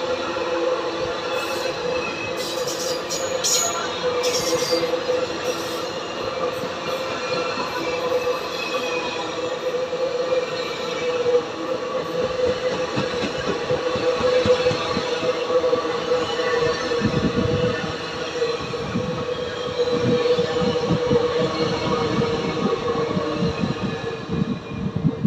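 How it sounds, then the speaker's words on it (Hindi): Hampi Express, the Hubli–Mysore passenger train, rolls past at a railway crossing with a loud, steady rumble of wheels and carriages, rhythmic rail clatter and occasional high metallic squeals, with no talking. "ट्रेन का आपने क्रॉसिंग देखा था वो है हुबली से मैसूर के बीच चलने वाली हम्पी एक्सप्रेस"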